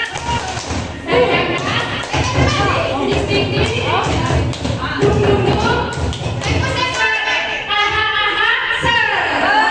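Teachers stand and perform a rhythmic group clap together, a steady run of sharp hand-claps under talk and chanting that fills the whole stretch.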